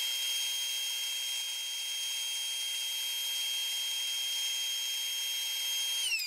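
A power saw cutting thin walnut veneer boards, roughly ten thousandths of an inch thick, from leftover knife-handle stock with an Accu-Slice system, making a steady, loud, high whine that holds unbroken throughout, with no talk.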